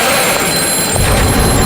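A telephone rings loudly and continuously with a bright electronic trill, close and alone without voices.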